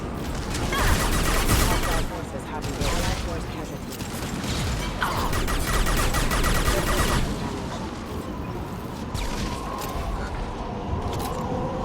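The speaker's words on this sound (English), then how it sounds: "Let's get the SMG out for Max." Rapid submachine gun fire in the shooter game Mass Effect 2, sustained bursts with loud combat effects and crashes running throughout, mixed with in-game voices and busy battle noise.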